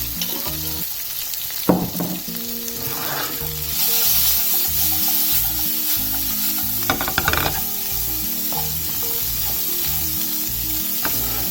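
Chili powder hitting a hot, sizzling pan of mor kuzhambu spices, a steady loud frying hiss with a few sharp crackles and stirring clatters, and no voices.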